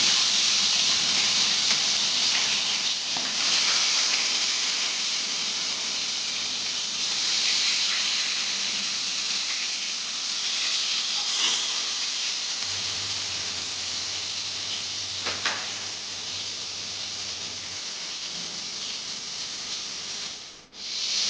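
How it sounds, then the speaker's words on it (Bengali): Hilsa fish frying in hot mustard oil in a kadai (wok), a steady, fairly loud broadband hiss and sizzle that holds without a break throughout, with no talking. "এবার আমি গরম তেলের মধ্যে মাছটাকে ভেজে নেব।"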